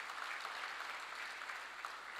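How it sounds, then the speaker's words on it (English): An audience at an Africa Day lecture in Dar es Salaam gives brief applause for secondary school students, a faint, even wash of clapping. "Can we give them an applause?"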